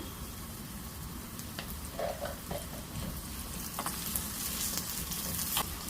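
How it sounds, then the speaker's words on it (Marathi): Finely chopped onion fries in oil with a little salt, a constant close sizzle with occasional soft stirring scrapes and crackles, growing slightly brighter toward the end. "गुलाबी कलर येईपर्यंत आपल्याला आता परतून घ्यायचा आहे"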